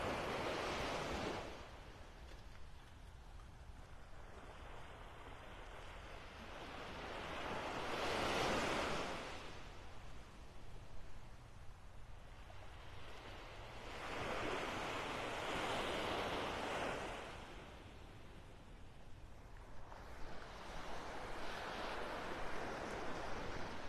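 Waves roll onto a beach in North Naples, Florida, each surge swelling and fading in a slow, regular rhythm of about one every seven seconds, with a steady wash of surf between them and no voices.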